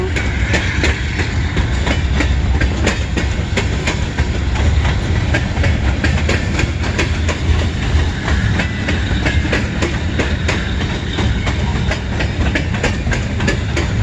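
A CN westbound train rolls past in Emmett, Michigan: a loud, steady rumble with rhythmic clickety-clack of wheels over rail joints, sustained and close throughout.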